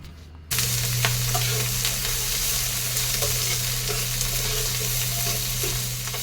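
Green chillies and onion frying in a pan, a loud continuous sizzle starting abruptly and holding steady, with faint stirring scrapes underneath.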